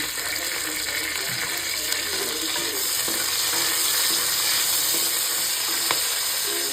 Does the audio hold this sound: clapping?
no